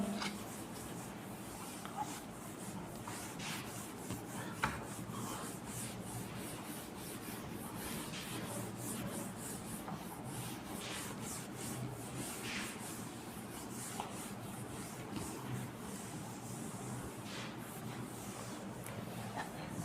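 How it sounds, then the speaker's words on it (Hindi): An object is rubbed to build up static charge, giving a steady, continuous scraping friction sound over a quiet background for the whole stretch. "मैं इससे रब करने जा रहा हूं बेटा।"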